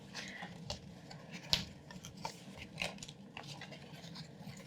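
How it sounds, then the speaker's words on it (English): Paper side panels of pyramid candy boxes being creased, a series of soft scratchy folding and rubbing sounds at close range, with irregular crisp ticks scattered throughout. "You just want to go ahead and give those a nice crease as well."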